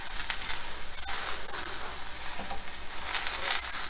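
Onions sizzle steadily in a pan, a dense, even crackle at close range with faint stirring scrapes and no voices.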